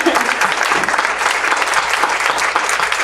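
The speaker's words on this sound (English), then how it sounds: "You can clap for that" Applause at a candidate forum town hall, a crowd clapping steadily and continuously at close range with no pause.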